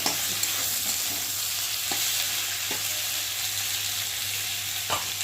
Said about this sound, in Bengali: আর দেবো একটা টমেটো কুচি দিয়ে একটু খুঁটি দিয়ে নেড়ে দেবো